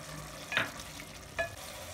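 Potatoes and minced keema frying in a pan for aloo keema, a steady soft sizzle with two brief louder scrapes of stirring, and no talk.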